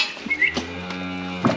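Cattle on a farm being brought back into the pens, a single long, loud moo from a nearby cow with a low droning tone, ending in a short louder burst, with no talking.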